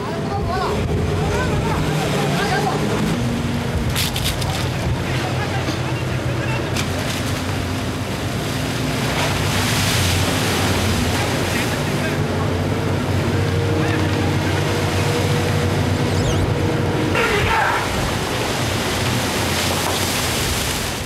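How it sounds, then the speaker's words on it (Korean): Blizzard wind at about 17 m/s and heavy waves roar continuously around a mackerel fishing boat at sea, with broad, loud noise and low engine-like rumble throughout and some voices under the storm. "눈보라가 엄습해왔다. 초속 17m, 시야까지 차단된 셈이다."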